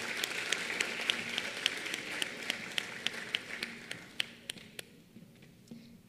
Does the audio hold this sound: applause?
yes